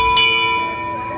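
A metal temple bell at a Ram Mandir in Baripada during Ram Navami puja rings with a single bright strike whose clear tones hang on steadily, close and loud under a speaking voice.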